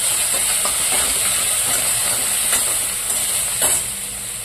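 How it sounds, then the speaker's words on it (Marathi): Coriander leaves being sautéed and stirred in a pan for bread pakora filling, a steady close sizzle with soft scraping strokes of the spatula throughout, no voices. "कोथिंबीर, चांगलं परतून घ्यायचं ते"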